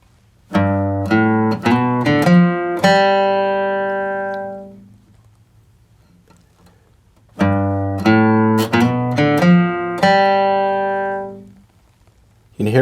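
Two quick bluegrass guitar G runs played on a single acoustic guitar, each a fast flurry of plucked notes with a quick hammer-on, ending in a ringing chord that fades.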